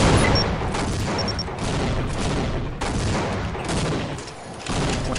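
Dense, continuous gunfire from a Team Fortress Classic match, overlapping shots and booming explosions filling the whole stretch at steady loudness with no pauses.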